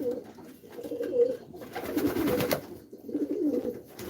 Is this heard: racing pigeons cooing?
yes